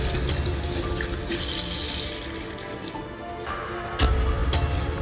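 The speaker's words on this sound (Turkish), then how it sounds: "Ellerimi yıkıyorum." Hands being washed under a running tap, a steady close splash of water into a sink with a couple of louder splashes toward the end.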